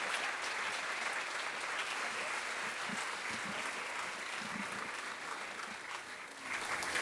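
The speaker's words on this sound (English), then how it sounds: "Let's give Katarina a big round of applause." An audience claps steadily for an honoree at an evening event, with continuous rather faint and distant applause and a few faint voices mixed in.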